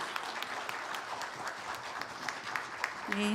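Church congregation applauding during a Sunday worship service, a steady wash of many hands clapping throughout, a little louder near the end.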